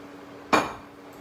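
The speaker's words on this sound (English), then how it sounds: "pick up your quesadilla and just place it very gently on the pan like that" A quesadilla is set gently onto a pan with a single soft clink and thud, followed by faint quiet.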